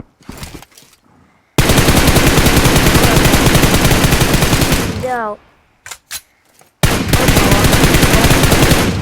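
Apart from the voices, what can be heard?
gunfire in video game PUBG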